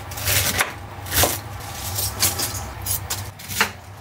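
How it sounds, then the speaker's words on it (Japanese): A knife chops through cabbage in a series of crisp, irregular cuts on a board, close and fairly quiet. "キャベツめっちゃ切るやん、今日。"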